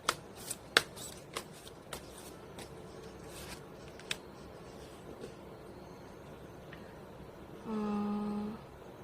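Tarot cards being shuffled by hand, a series of crisp snapping riffles and flicks spaced through the quiet, ending with a brief steady tone near the close.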